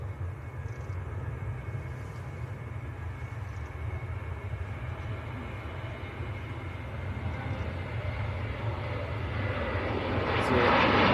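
A Ryanair airliner at Manchester Airport on Boxing Day in poor weather, heard as a steady, fairly distant jet roar that gradually swells louder toward the end, with no talking over it.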